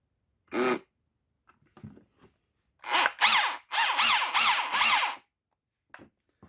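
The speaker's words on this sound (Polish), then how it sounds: "No my tu mamy akurat wiercenie." A DERDA cordless hammer drill gives a short whirring burst. After a pause, a longer run follows as a few close, loud pulses whose motor pitch rises and falls as the trigger is worked, with faint handling noises between them.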